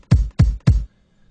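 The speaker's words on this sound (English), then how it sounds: "Here's my bass drum." Three punchy bass drum hits from a beat session sample, evenly spaced and close, each with a deep booming thump that decays quickly, then silence.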